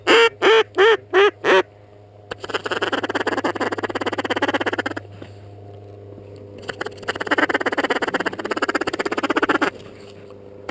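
Ducks on a water channel give a quick run of loud, close quacks, then long stretches of rapid chattering calls in two bursts separated by a pause, over a low steady hum.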